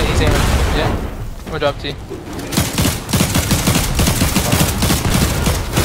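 Rapid automatic gunfire bursts from a Fortnite match at a competitive grand final, loud and dense throughout, with a player talking over the shooting.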